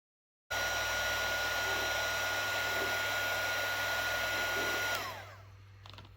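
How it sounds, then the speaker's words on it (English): A heat tool blows steadily to soften the vinyl of an American Girl doll, a constant loud whooshing hum with a low buzz beneath, running unbroken for about four and a half seconds before cutting off. "I'm getting the vinyl squishy enough, but don't burn it, with my heat tool to where I can pull out the tension cup."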